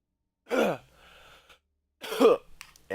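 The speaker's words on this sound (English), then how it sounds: "I'm coughing a lot lately, and I'm very, very sorry for that." A person nearby gives two harsh coughs with throat clearing, separated by a pause of faint background sound, fairly quiet and with no speech.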